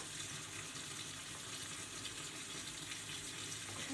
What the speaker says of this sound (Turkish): Su boşa akıyor.